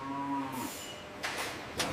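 Cattle being guided through the first stage of processing at a cow leather factory, giving a single drawn-out moo that falls in pitch, followed by a few sharp clattering knocks nearby.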